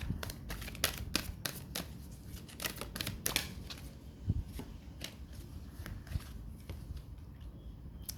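Tarot cards shuffled by hand, a quiet series of quick riffling snaps and soft slaps in irregular bursts, close and alone.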